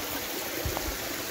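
A creek runs steadily through a wooded spot, its broadband wash of flowing water holding constant and fairly quiet, with a brief low thump partway through.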